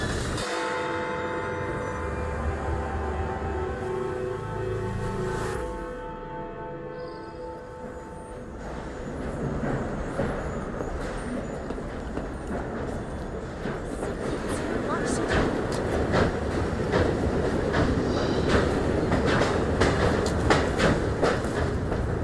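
A train runs in the game Assassin's Creed Syndicate, a steady rumble with rhythmic clatter of wheels on rails that grows louder in the second half, while voices talk over it early on.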